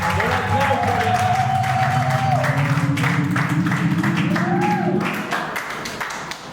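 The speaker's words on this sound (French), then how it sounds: "On acclame pour Bernard." An audience at Bernard's 50th birthday party applauds and cheers, sustained clapping and cheers from a crowd while a voice speaks over it, fading toward the end.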